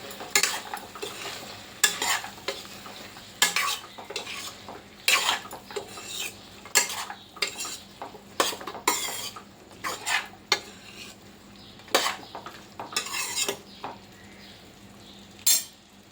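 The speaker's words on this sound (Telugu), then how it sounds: "సగం చికెను హాఫ్ బాయిల్ అయిన తర్వాత చిక్కుడుకాయలు వేసి కలుపుకోవాలండి" Chicken and broad beans (chikkudukaya) curry simmers on medium flame as a metal spoon stirs it in a pot, repeated loud clanks and scrapes in uneven bursts over a low bubbling sizzle, close up with no talking.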